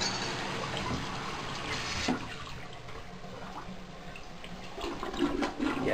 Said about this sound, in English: there's a slow drain at the vanity in the guest bathroom, but the drain at the bath in the guest bathroom runs perfectly.